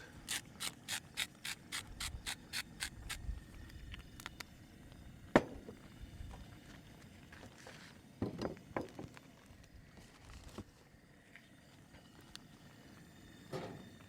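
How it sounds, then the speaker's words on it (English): Coarse black pepper ground from a mill over a pan beside a Coleman camp stove: a quick run of sharp, regular clicking crunches at first, then softer rustling with a few scattered knocks, close and fairly quiet. "add a little coarse ground black pepper"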